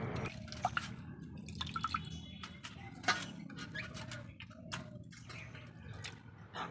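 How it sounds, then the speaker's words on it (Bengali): Cleaned prawns are rinsed under water, with dripping, splashing and clinking of the bowl in irregular bursts, fairly close and moderately loud, without speech. "তো প্রত্যেকটা চিংড়ি মাছ এইভাবে কেটে পরিষ্কার করে নিচ্ছি। এখন ভালো করে ধুয়ে নেব।"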